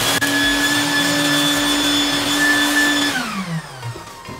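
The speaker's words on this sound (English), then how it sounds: "So take the vacuum and clean up the drain" A loud vacuum cleaner cleaning a bathtub drain runs steadily up close with a high whine, then powers down, its pitch sliding lower as it winds off.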